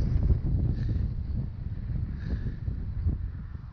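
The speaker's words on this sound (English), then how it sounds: "So it's a little bit windy" Steady, blustery wind buffets the microphone in a low, continuous roar, with faint gusts rising and falling and no voices.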